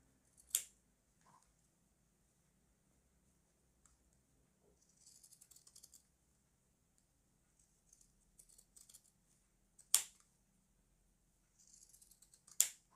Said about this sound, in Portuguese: Eu vou recortar já aqui com uma tesoura zigue-zague